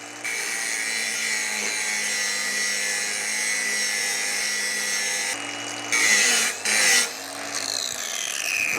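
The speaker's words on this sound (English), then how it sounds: "I'm going to grind a little bit of an angle here so that the weld will get a little bit better" Angle grinder working an angled edge onto metal ahead of welding, a steady loud high whine held for several seconds, then brief bursts of harsher grinding contact near the end.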